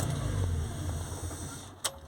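A Ford Anglia fitted with a Mazda MX-5 engine and running on two dead cylinders is switched off: its low idle rumble fades away, followed by a short, sharp click near the end.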